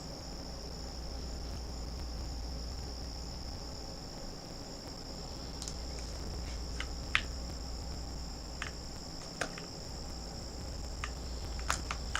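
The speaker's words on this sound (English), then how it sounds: "Kind of just want to listen to the outside crickets." Crickets chirp steadily outdoors at night in a soft, continuous high trill, with a few faint clicks and a low hum in the background and no talking.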